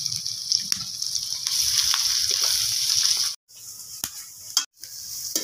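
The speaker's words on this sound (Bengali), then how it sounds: "লঙ্কা মশলা ভালো করে ভেজে নিয়েছি।" Chilli and prawn masala for saag frying in a pan: a steady, loud hissing sizzle with occasional stirring clatter, broken by two short silent gaps, and no talk.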